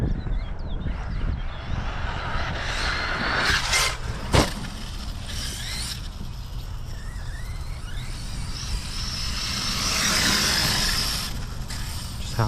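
An Arrma Kraton XL MAX 6 RC car drives at half throttle, its electric drivetrain whining and ratcheting at a steady moderate level with gravelly tire rumble, a sharp clack midway and wind buffeting the microphone.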